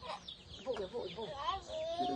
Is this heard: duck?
yes